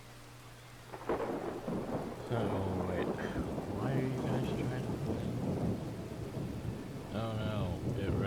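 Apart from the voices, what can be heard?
thunderstorm and rain, from video game Thronebreaker: The Witcher Tales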